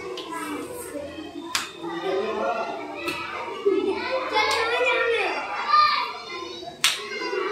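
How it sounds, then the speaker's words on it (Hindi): Children at a primary school clap their hands during a walking and jumping pattern activity. A few sparse, sharp claps ring out at irregular intervals under steady children's chatter and an adult's voice. "बहुत अच्छे, ताली बजाते जाएंगे।"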